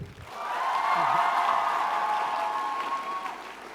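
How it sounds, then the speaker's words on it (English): Steady applause from a convention panel audience, a dense wash of clapping that swells quickly and holds for a few seconds before starting to fade. "Round of applause for Jack, please."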